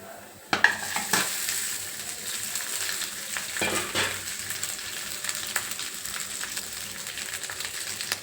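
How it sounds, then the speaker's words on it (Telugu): Garlic rice sizzles steadily in a hot pan, with a sharp clatter near the start and scraping stirs breaking through the continuous close frying hiss. "అన్నం బాగా వేగింది"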